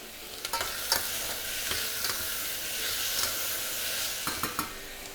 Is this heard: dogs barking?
no